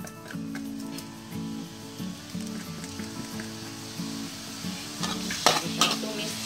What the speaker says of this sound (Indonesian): Kita tumis-tumis.